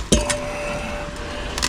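Tiny IC chip dust tipped into a metal pan, giving a sharp clink near the start and a second lighter tap, then a faint ringing tone and quiet room noise, with another small clatter at the end.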